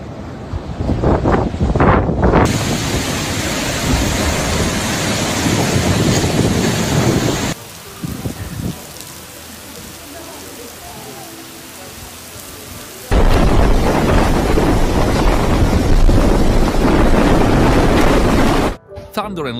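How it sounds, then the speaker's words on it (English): Heavy storm over Great Britain with roaring wind, rain and rolling thunder that keeps going, loud and close, easing for several seconds before surging back. "Thunder and lightning continuously struck the sky."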